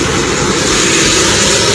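A loud, continuous airplane engine drones right after landing, a steady roaring hum close by with no breaks and no talking.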